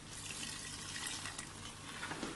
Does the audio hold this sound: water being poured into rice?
yes